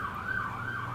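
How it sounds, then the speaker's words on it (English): An emergency vehicle siren wails steadily from start to finish, its pitch sweeping slowly up and down over low road rumble, with no talk. "Wait for the sirens, Hank."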